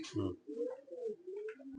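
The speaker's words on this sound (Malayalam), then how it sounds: "ഇത് പഴയ ലൈനേജ് പ്രാവാണ്" A twelve-year-old pigeon of an old lineage coos in a loft, several soft low rolling coos close by, with a brief rustle at the start.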